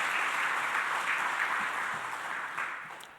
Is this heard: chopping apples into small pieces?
no